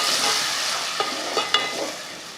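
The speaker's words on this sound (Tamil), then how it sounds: "நல்லா வதங்கினதுமே நான் வந்து 2 தக்காளியை அரைச்சி அதில் சேர்த்துக்கிறேன்." Onions and ground tomatoes fry in oil in a pan, a steady bright sizzle with a few soft stirring scrapes and clicks near the middle, close and alone.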